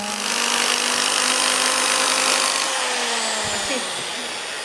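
An electric drill bores through a stack of paper for Japanese stab binding in a craft workshop, giving a steady, loud, whining roar that holds for several seconds and then eases slightly as the bit comes out.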